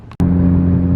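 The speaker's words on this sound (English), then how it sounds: "Oh, traffic is coming back, guys." A car engine drones steadily and loud at close range after a short click, a sustained low hum of passing road traffic.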